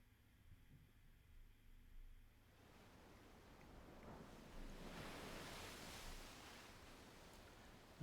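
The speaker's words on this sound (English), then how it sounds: "The sound of the waves flows into my ears." Ocean waves from a visual novel game wash in as a steady broadband roar that swells and grows louder after the first few seconds, with no voices.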